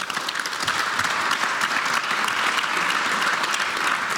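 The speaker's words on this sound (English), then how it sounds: "give a clear round of applause for our panelists for having participated in this discussion" An audience applauds the panelists at a transport conference, steady and fairly loud, a dense even wash of many hands clapping in a hall with no talking.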